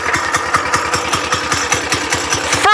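A Trailmaster MB200 mini bike's small single-cylinder engine runs with a rapid, even putter of pulses, loud and close, rising at the very end.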